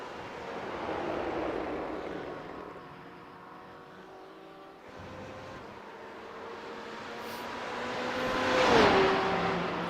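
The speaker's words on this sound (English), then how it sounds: "John Wood of the Dippa Sport team on track in his BMW M8" A BMW M8 race car in a racing game at Watkins Glen's NASCAR configuration, its engine a steady harmonic drone whose pitch climbs and dips with gear changes, swelling to a louder, sweeping pass near the end.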